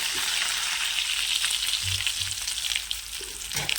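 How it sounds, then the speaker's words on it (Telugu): Dried red chilies and mustard seeds sizzle and crackle in hot oil as a tempering for chutney. The frying hiss is steady and close, with faint stirring taps and no voices. "ముందుగా ఎండు మిరకాయలు వేస్తాను"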